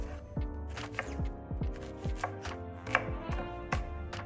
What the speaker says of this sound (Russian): Берем 1 луковицу и очень мелко ее нарезаем.